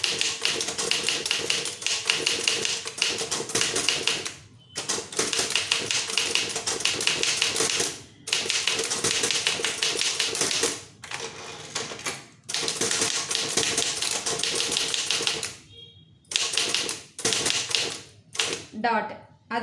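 Tamil typewriter keys clatter in fast, steady bursts, broken by short pauses and a few single strokes near the end, recorded close up while an instructor talks throughout.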